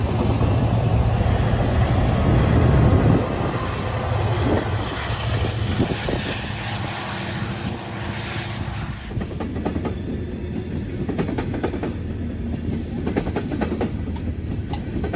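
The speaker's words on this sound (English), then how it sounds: "I see NS 189 head south with NS 1073 on the rear." A Norfolk Southern freight train heading south rolls past nearby, a loud sustained rumble with rail clatter and wheel squeal that eases slightly after the first few seconds, with no voices.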